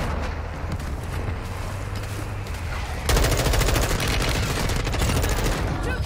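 Sustained rapid gunfire in a video game, loud and continuous, intensifying partway through into denser automatic bursts, with no talk heard.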